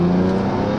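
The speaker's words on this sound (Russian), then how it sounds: "Конечно, звучит выхлоп реально достойно." An Infiniti FX35 SUV's engine and exhaust drone close up in a loud, steady, throaty rev with strong low tones for under a second.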